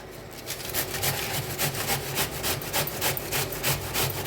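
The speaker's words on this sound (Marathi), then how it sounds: "तर सगळं असंच किसून घेते इथं पत्तागोबी सगळं किसून घेतलेलं आहे" Cabbage being grated by hand on a kitchen grater, a steady rhythmic rasping of repeated strokes, close and fairly loud, with no talking.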